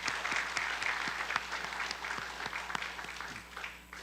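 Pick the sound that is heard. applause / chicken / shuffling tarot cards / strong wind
applause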